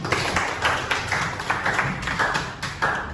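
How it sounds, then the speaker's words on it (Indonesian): A classroom of students claps together, the hand claps arriving as quick, even bursts at a steady rhythm for a few seconds, fairly close and alone without talk. "Tepuk tangan dulu untuk semuanya"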